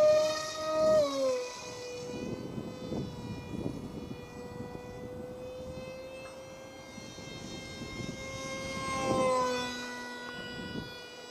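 An RC F18 jet with a Zoom 450 electric motor cruising at half throttle in light wind, a steady, thin, high-pitched whine with rich harmonics that swoops in pitch as it passes by, moderately distant and heard alone.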